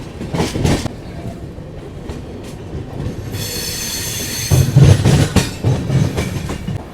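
The New Delhi-Dibrugarh Rajdhani Express running on rails through the tea gardens of the North East, with steady rumbling wheels, rhythmic clickety-clack and a high wheel squeal, heard from on board.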